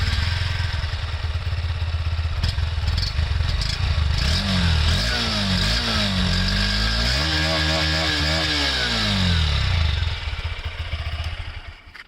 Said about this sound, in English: the amazing Honda's refined engine sound is what this bike has to present to you